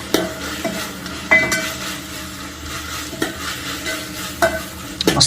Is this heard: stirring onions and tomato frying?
yes